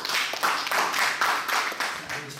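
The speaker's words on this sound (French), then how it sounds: "Applaudissez, messieurs" Audience applause in a hall: a dense, steady wash of hand claps running through the whole stretch, fairly close and loud, with no one talking over it.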